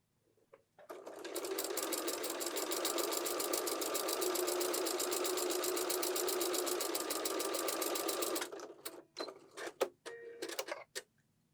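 Sewing machine runs steadily for about seven seconds stitching quilt block seams on a fish block, a fast even mechanical whir, then stops, followed by a few small clicks and handling noises.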